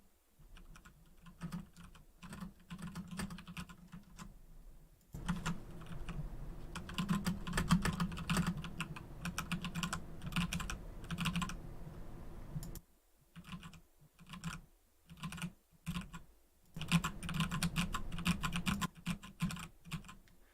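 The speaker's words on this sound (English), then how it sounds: "the noise from typing is slightly lower when I turn on the filter" Soft typing on a computer keyboard sits just under a microphone, light key taps in irregular bursts and pauses, faint and close, no one speaking.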